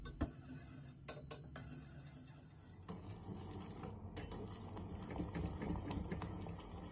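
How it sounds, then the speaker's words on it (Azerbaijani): A spoon stirs jam juice and starch in a pot on the stove over low heat, with a few light clinks and scrapes against the metal at first, then a steady low hum. "Ocağın üzərinə yerləşdirib aşağı odda qarışdıra-qarışdıra bişirirəm"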